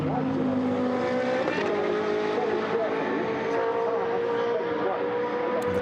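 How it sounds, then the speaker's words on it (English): GT race cars in a Blancpain GT Sports Club qualifying race at Silverstone sweep through Club Corner. Loud, continuous engine whine mixes with overlapping revs as the cars pass. "And the cars turning their way now down through Club Corner."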